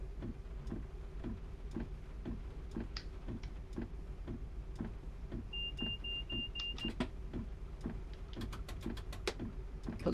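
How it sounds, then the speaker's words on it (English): Diesel engine of a South Wales Sprinter train idling steadily in Train Simulator Classic, with a regular ticking, clicking rhythm running throughout over a constant low hum and a brief high tone midway. "the engine's definitely running"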